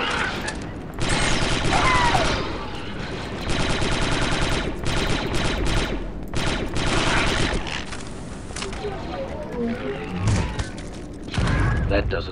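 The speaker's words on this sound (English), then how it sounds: "Must be the battle upstairs." Distant battle in the video game Republic Commando, rattling gunfire and clanking mechanisms rolling on under a dense background, with voices speaking over it.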